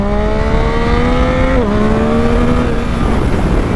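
A motorcycle, the rider's bike with no wheelie control, revs steadily under throttle for a wheelie, the engine tone holding loud and close, dipping briefly mid-clip, then climbing slowly again.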